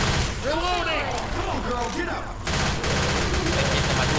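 Gunfire rattles in Left 4 Dead 2 on the Fatal Freight map, with overlapping shots in a dense, continuous fusillade. Players talk over it and the game noise sounds through the whole stretch.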